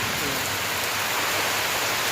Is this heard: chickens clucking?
no